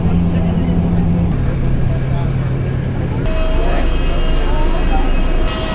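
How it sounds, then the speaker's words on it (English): A parked passenger jet's engines hum in a steady, loud drone while passengers board at the front for a flight from Bangkok to Siem Reap, with a low tone shifting partway through. "So this here is our plane today"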